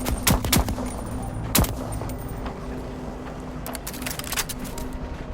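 A gun fires a few sharp shots near the start of a Voidtrain game scene, the reports sitting over a steady engine hum and background rumble.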